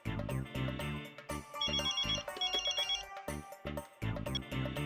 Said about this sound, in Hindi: मैं तो उसको फोन लगा रहा हूँ